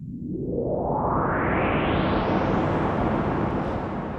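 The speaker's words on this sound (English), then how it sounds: "we've also got our white noise creator" Continuous hiss from a white noise generator, fading in at the start, then holding loud and steady with no breaks.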